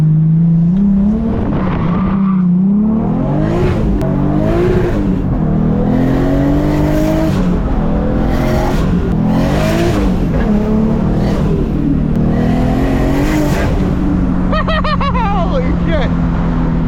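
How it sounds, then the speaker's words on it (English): A 600-horsepower Lexus IS300 driving and accelerating, its engine droning loud and close with rising and falling revs through several gear pulls, under occasional talk. "Let's take my 600 horsepower IS300 to work today."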